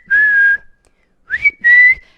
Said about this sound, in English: I'm whistling over my mic